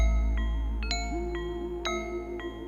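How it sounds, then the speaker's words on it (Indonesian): Historic Lonceng Gajah Mukur bell at Keraton Kanoman palace in Cirebon rings with bright metallic ding-dong strikes, about four or five tones spaced irregularly, each leaving a long sustained hum ringing underneath, no talking. "Di Keraton Kanoman Cirebon terdapat lonceng bersejarah bernama Lonceng Gajah Mukur, hadiah dari Gubernur Jenderal Inggris Thoma"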